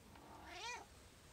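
A pet house cat gives a single rising-and-falling meow, close and fairly soft in a quiet room.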